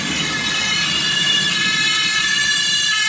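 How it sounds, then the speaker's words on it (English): Emergency vehicle sirens played through Skullcandy Venue noise-cancelling headphones: wailing sirens blare steadily at high pitch, loud and continuous, over a low background rumble. "Let's get some proper sirens on the go."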